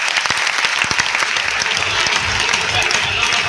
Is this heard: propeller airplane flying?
no